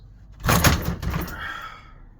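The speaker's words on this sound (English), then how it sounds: "That's how to get the door off." An old wooden front door is worked loose and lifted off its frame, giving a close knock and scrape followed by a fading creak, with no talk.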